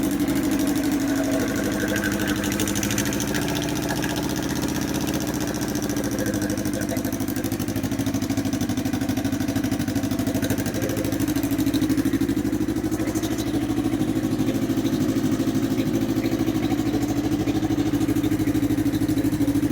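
A 2022 CFMoto CLX 700 motorcycle engine runs steadily for about twenty seconds, a strong low hum with mechanical clatter, held near and loud with no clear rise and fall of revving.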